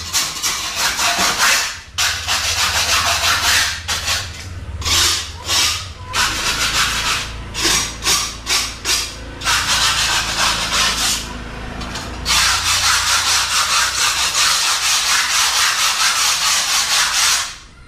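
Hand sanding of wood before painting, a steady scraping rub in long back-and-forth strokes with short pauses between passes, close and fairly loud.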